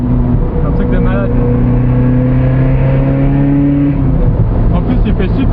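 Ferrari driven on open public roads of the 24-hour circuit at Le Mans, its engine rising and falling in pitch through loud revs while someone talks over it.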